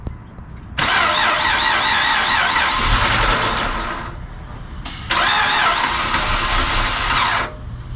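A junkyard Chrysler 3.5L V6 being swapped into a Chrysler 300 cranks in two long, loud starter bursts separated by a short pause, with the engine churning but not catching.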